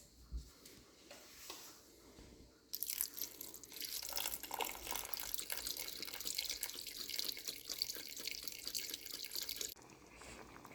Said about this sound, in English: Add your broth into the pot as high as the other ingredients.